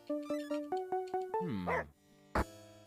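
A cartoonish dog in the video game Murder Is Game Over gives a string of six or seven short, even-paced yips, then a drawn-out whimper, followed by a sharp thump after a pause.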